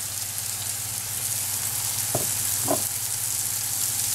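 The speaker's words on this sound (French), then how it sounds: "vous faites confire à feu doux encore quelques minutes" Mango pieces and shallots softening in a pan over low heat give a steady, close sizzle and gentle frying crackle, with two brief utensil scrapes partway through.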